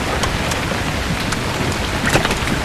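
Steady rain falling on surfaces, a dense continuous hiss with scattered louder drop impacts, close and fairly loud throughout.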